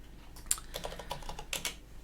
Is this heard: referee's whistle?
no